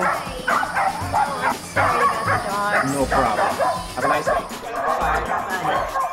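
Dachshunds bark and yip repeatedly in quick, excited bursts at close range, with a person talking briefly over the racket.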